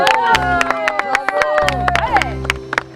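Applause for the Red team at a youth team game in Vélizy: scattered sharp claps over lively crowd noise, voices and bright tonal sounds, fairly loud and close.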